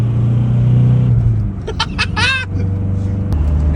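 A Nissan 240SX idles and then pulls away on its first drive, a low steady engine rumble with a brief rising rev in the middle before settling back to a deeper drone.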